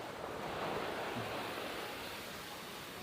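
Faint, steady surf washes continuously at Bang Saen beach, a soft broadband rush of waves heard from a distance with no voices.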